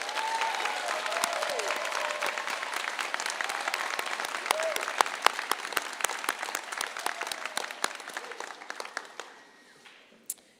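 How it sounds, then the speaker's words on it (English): An audience at an adult and family education commencement applauds the teaching and support staff, a loud sustained clapping that thins out and fades toward the end, with a few scattered claps remaining. "Let's give them a big round of applause."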